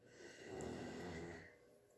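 A dog snores faintly indoors, one slow, soft rasping breath that swells and fades over a couple of seconds, quiet and close with no talk.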